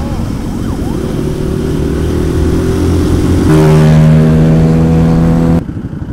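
A modified motorcycle's engine revs hard and close, its tone climbing and holding at a higher pitch before cutting off abruptly near the end, with engine rumble throughout.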